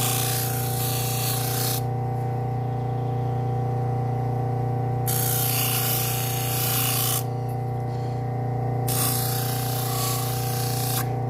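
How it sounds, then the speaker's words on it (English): A kitchen knife is sharpened on a Buck Tool slow-speed grinder with a 6-inch wheel spinning away from the user. A steady motor hum runs throughout, with three long, close rasping grinding passes. "This is a buck tool slow speed grinder, and I flipped the motor around so it's spinning away from me."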